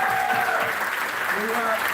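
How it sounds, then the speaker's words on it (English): A crowd at a brewery venue in Conway, New Hampshire applauds and cheers steadily, with voices and shouts mixed into the clapping. "Let's give her a round of applause"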